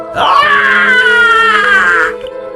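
A long, piercing, wavering scream rises sharply and holds for about two seconds before cutting off, loud and close, used as a sound effect in a spoken horror story.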